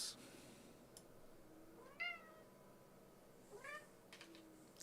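A cat indoors lets out two or three clear meows, spaced a second or so apart, over a faint quiet room hum with no talking.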